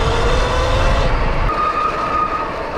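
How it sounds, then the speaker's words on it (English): Worn brake pads squeal on a Sur Ron electric off-road bike riding trails in rain and thunder, a steady thin shriek over loud rumbling wind and tyre noise, with no talking. "Oh, squeaky brakes."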